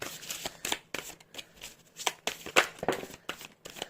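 A deck of tarot cards being shuffled by hand, producing a steady series of riffling, flapping card sounds in quick irregular bursts, close up, with no talk.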